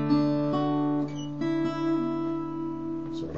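A chord on an acoustic guitar fitted with brand-new strings, slightly out of tune, its notes picked in turn and left ringing close and clear, several plucks spaced about half a second apart.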